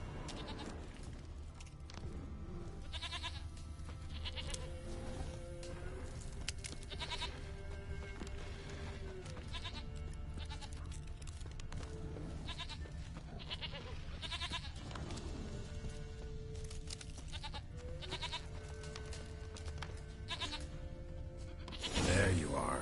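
A goat bleats several times in The Witcher 3, its calls rising over a steady game music and ambience bed, with someone speaking briefly in between.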